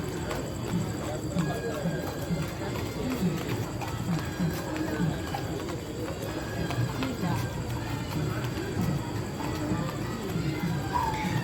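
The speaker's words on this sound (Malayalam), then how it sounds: "ബാക്കിൽ നിന്ന് 2 കുതിര ഓടി വരും" Two horses come running in the Painkuni Aarattu procession at Padmanabhaswamy temple, their hooves clip-clopping in a steady rhythm under continuous crowd noise and voices.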